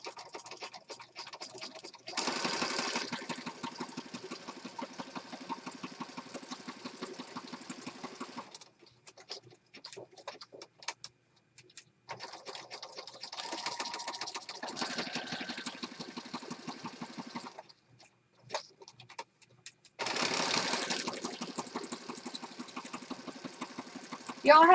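Sewing machine stitching fabric in several long whirring runs separated by pauses, close and moderately loud, with short stops and starts between runs.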